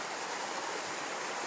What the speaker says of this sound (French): il y a ces tourbillons dans la rivière